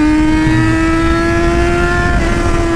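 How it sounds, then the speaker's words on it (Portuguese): A sport motorcycle idles close by with its revs held low, a loud steady hum that stays even throughout. "Moto esportiva, mano. Legal a lenta dela, com ela reduzida."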